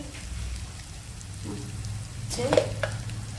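Curry leaves sizzle in hot oil in a pan while macaroni chicken is being cooked, a soft steady crackle with a few sharper pops near the end.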